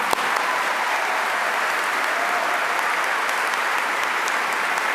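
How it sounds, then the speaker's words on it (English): Steady, sustained applause from a large audience honouring graduates at a 2023 high school commencement ceremony, dense clapping filling the hall for the full stretch without talk. "Give them a round of applause again"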